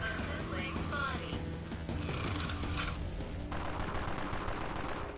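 Rapid automatic fire from a P5X submachine gun in the online zombie shooter Dead Frontier: a dense, continuous rattle of shots mixed with game sounds, steady and loud throughout, with no voices heard.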